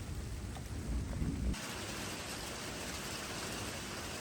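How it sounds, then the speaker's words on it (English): Heavy rain pours steadily onto a shed roof, a dense, continuous hiss and patter with a brief louder rumble early on, then an even roar to the end, with no talk. "I'm sure you can tell by the roof of the shed right now that it is pouring down rain."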